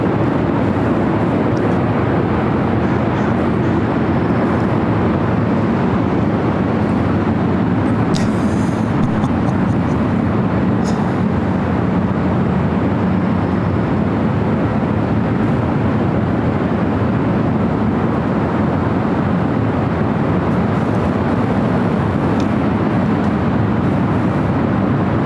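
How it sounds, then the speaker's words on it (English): An Emirates Airbus A380 pushes back from the Tom Bradley gates at LAX, a steady, loud broadband jet and ground-equipment rumble holding throughout with little change. "Emirates Flight 216 heading back to Dubai, A380 Super. Now pushing back for the gates of Tom Bradley."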